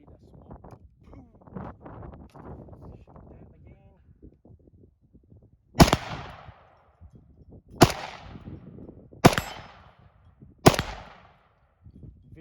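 A Cetme Model L 5.56 NATO rifle fires four loud, sharp single shots spaced a couple of seconds apart, each ringing briefly outdoors, after a stretch of quiet talking and handling noise.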